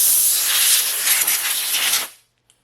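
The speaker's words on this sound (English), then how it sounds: "just use an air gun and blow out any dirt that you have" Compressed-air gun blowing dirt from the fuel pump access door of a C4 Corvette, a loud close hissing blast lasting about two seconds before cutting off abruptly, followed by silence and a tiny click.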